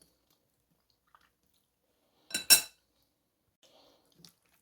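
A spoon stirs porridge in a cooking pot, giving two quick scraping clinks close by, then faint small clatters in an otherwise quiet kitchen.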